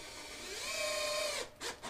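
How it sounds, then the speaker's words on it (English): A power driver drives 4-inch screws into a toy being assembled, one steady whirring run of about a second that winds up and then cuts off, close and fairly quiet, followed by a short second burst. "We got this one screwed in here."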